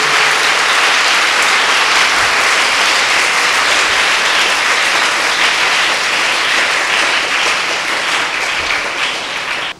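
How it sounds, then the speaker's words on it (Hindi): A congregation at a Bible convention claps loudly and continuously in a dense, roaring wave of applause that lasts nearly ten seconds before cutting off abruptly. "जोरदार ताली बजाइए प्रभु के लिए।"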